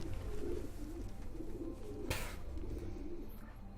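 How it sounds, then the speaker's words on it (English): Pigeon at a coop in Assassin's Creed II: a soft, low, repeated cooing murmur throughout, moderately close, over game ambience with a brief sharp noise burst midway. "now we gotta pick up this pigeon coop. It's a good looking pigeon."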